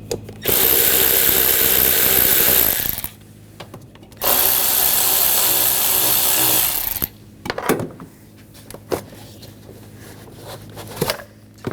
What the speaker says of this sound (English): Use an 8mm socket. Loosen up the worm clamps.